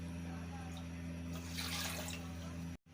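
Water is poured into a cooking pot to make sugar syrup for rasgulla, a short, faint splashing pour over a steady electrical hum that cuts off abruptly at the end.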